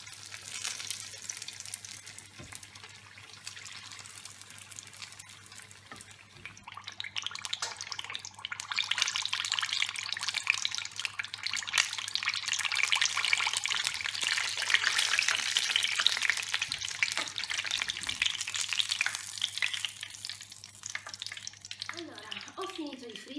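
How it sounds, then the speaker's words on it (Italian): Hot oil bubbles and sizzles loudly and continuously as panzerotti deep-fry, with hot oil ladled over the top, swelling in intensity midway, with faint clinks of utensils near the end. "vado a buttare l'olio caldo anche sopra in modo da facilitarne la cottura"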